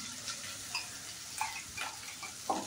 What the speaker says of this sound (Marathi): चांगलं असं परतून घ्यायचं कांदा, टोमॅटो तेलामध्ये.